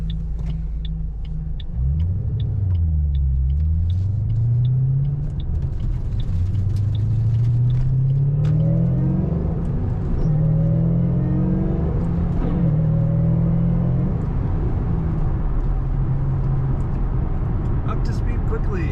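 A 2007 Ford Mustang Shelby GT500 convertible with a 6-speed manual pulls onto the road, its engine rumbling loudly and rising through several gear changes in a close, continuous drone.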